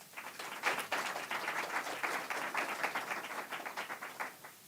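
Audience applause in a conference room for Congresswoman Chellie Pingree of Maine's 1st District, a steady wash of many hands clapping at moderate volume for several seconds, with no speech over it.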